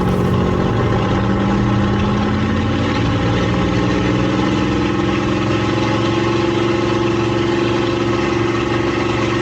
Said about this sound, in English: The sound of the Rolls-Royce Merlin engine during takeoff is really superb.